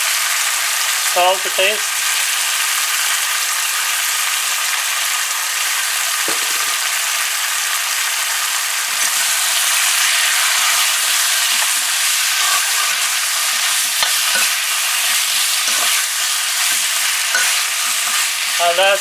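Shrimp cook in a pan for an eddo and drumstick curry, a loud, constant sizzle with occasional stirring scrapes and a brief spoken remark.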